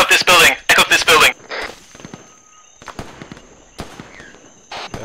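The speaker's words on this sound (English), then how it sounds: "Yeah, I'm under fire where I am" Sharp gunfire cracks in a rapid burst, followed by sparser distant shots and a faint radio tone during a team combat game, with loud voices in the foreground.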